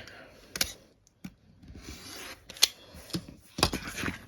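Quilting fabric is cut along the edge of a quilt block in a few sharp, separate snips with quiet pauses between them, close up and without talk.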